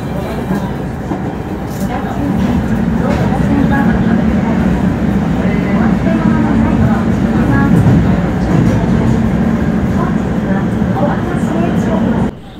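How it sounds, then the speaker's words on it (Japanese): A Yokohama Municipal Subway 4000 series train rumbles steadily along the track near Shonandai terminus, with a low hum and faint rhythmic clatter throughout, no talking. "列車はまもなく終点の湘南台に着きます"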